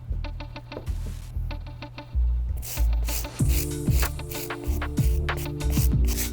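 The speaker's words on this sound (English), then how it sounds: "move on to our medium bristle brush and start hitting these midsoles" Medium-bristle brush scrubbing the midsoles of Yeezy 350 V2 Zebra sneakers, close and loud, with repeated rough rubbing strokes in irregular bursts over a low steady background hum.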